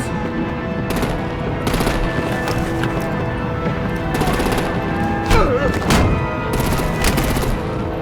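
Video game gunfire in Batman: The Enemy Within, bursts of shots over a dense, loud mix of music and effects, with hoof-like clatter and brief vocal sounds.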